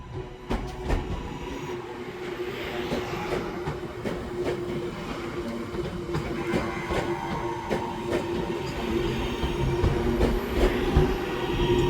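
Class 323 electric train departing Manchester Piccadilly toward Crewe, a steady rumbling roll with rhythmic wheel clicks and faint squeals, close and gradually building; no talk.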